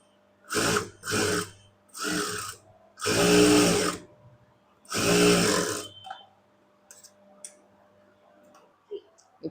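Sewing machine stitching blouse cup pieces in several loud mechanical whirring bursts of about a second each, followed by quieter clicks and handling of fabric.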